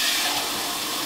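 Water runs steadily into a container of rinsed dried peas being set to soak as fishing bait, a continuous close rushing pour with no talking.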